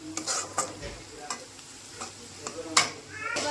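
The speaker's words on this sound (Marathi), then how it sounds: "एक चम्मच गरम मसाला टाकलेला आहे आणि अर्धा चम्मच धने पावडर सगळं असं मिक्स करून घेत आहे मी" Garam masala and coriander powder stirred into a pan for a spicy bombil fish dish, a soft sizzle under repeated spoon scrapes and taps against the metal pan, close and moderately quiet.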